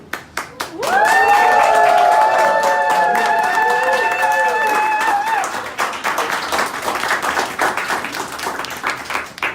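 Graduation ceremony audience bursts into loud cheering and whoops over steady applause, the voices dying away after a few seconds while scattered clapping continues close by.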